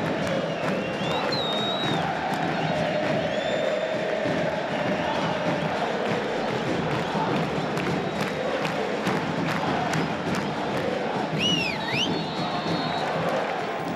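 A large football stadium crowd roars and cheers steadily throughout, a dense wall of voices with whistles and shouts rising above it, loud and continuous.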